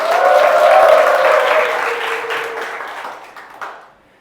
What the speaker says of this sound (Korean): 환호 소리가 너무 작은 것 같습니다.